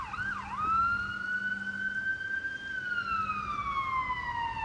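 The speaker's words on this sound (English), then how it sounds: "That's an ambulance. Oh, and there's a cop car." Emergency sirens, an ambulance and a police car, wail continuously, with one siren sweeping up then holding a long falling tone, fairly loud over traffic rumble on a snowy Toronto street.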